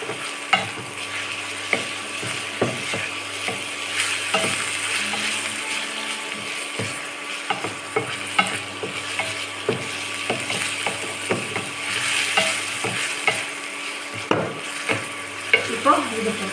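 Garlic and onions sauté in a pan for a Tamil moong dal gravy, with a steady sizzle broken by frequent scraping stir strokes and spatula clicks against the metal throughout.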